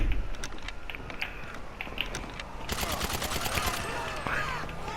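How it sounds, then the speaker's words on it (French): A new ADP weapon fired in a video game: scattered clicks and shots at first, then a loud burst of rapid, evenly spaced automatic gunfire in the second half. "Quand je tire avec, on dirait c'est Call of Duty."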